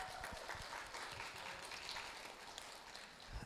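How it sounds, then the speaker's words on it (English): An audience at a lunch-and-learn business event gives a burst of steady, dense applause, moderately distant and fairly quiet, continuing without a break. "let's give them a round of applause"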